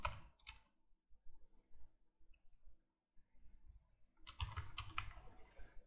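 Computer keyboard typing as a test case is written: a few soft clicks at the start, a quiet pause with faint handling, then a denser burst of close keystrokes toward the end.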